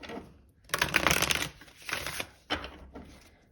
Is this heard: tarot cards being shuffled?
yes